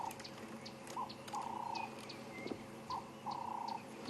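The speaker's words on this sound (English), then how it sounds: "You only find these robins in the drainage lines like this, so they're almost impossible to actually see. You just hear them singing gently." A robin sings softly from a drainage line in the African bush at sunrise, short clear whistled phrases repeating at a distance over faint background chirps and rustle.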